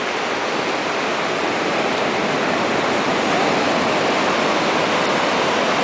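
Ocean waves on a beach roaring as a dense, steady wash of surf, loud and continuous with no breaks or voices.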